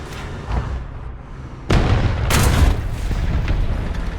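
A tank cannon, the Chi-Nu II in War Thunder, fires shells: two heavy booms with deep rumbling tails, one sharp and one following a moment later, over a quieter game background.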